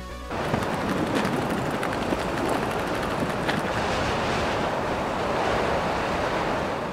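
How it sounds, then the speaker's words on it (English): Strong wind gusts across the open Verneukpan salt pan, a loud, continuous roar buffeting the microphone with broadband rumble and no voices. "The wind was pumping fiercely"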